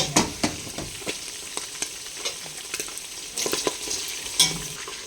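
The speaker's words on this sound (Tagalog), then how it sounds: "Igisa na ang malunggay na bunga." Moringa (malunggay) pods sauté in a pan, a low steady sizzle broken by intermittent stirring scrapes and light clacks from a utensil nearby.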